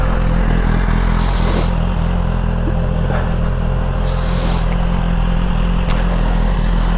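A 2023 BMW S1000RR M sport bike with a K67 engine being ridden, heard as a steady, loud engine and wind roar that continues without a break and with no voices.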